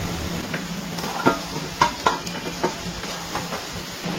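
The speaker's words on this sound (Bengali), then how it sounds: "এবার এর মধ্যে দিয়ে দিচ্ছি ভেজে রাখা আলু আর ভেজে রাখা চিংড়ি মাছ।" Fried potatoes and shrimp tipped into a pan of well-cooked spices for a papaya and shrimp ghonto, giving a soft sizzle under a few scraping knocks of a spatula against the pan, moderately near.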